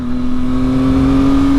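Yamaha MT-09 SP motorcycle engine on a first ride, a loud steady drone with a strong low hum that shifts slightly in pitch over a brief moment as it downshifts, close and continuous with no talking.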